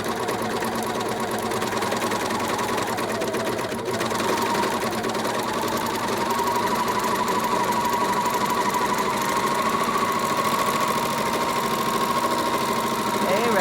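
A serger runs steadily at close range while sewing and trimming the edge of a fleece wallet, giving off a continuous mechanical whir and rapid clatter that holds throughout.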